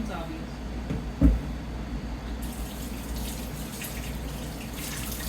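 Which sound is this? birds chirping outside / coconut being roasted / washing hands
washing hands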